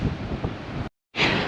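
Ocean surf roars beside a clifftop platform over a sea gap, a loud steady wash mixed with heavy wind buffeting the microphone, broken by a brief cut to silence before the roar resumes.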